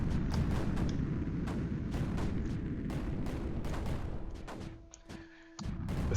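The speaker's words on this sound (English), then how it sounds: "I hear some rockets launching." Rocket launches in the strategy game Creeper World 4, a rapid series of sharp launch blasts and booms over a steady rumbling bed, thinning into a brief lull near the end.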